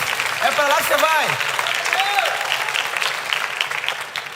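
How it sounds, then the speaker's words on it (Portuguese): A church congregation applauding for the Lord during a sermon, sustained clapping with voices calling out at the start and the crowd carrying on. "aplaude tão forte ao Senhor"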